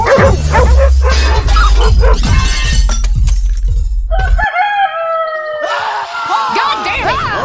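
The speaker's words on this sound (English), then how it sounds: "Who let the dogs in?" Dogs in Red Dead Redemption 2 bark loudly in a busy, chaotic burst mixed with crashing and crowing fowl, followed by sharper, more scattered yelps and animal cries.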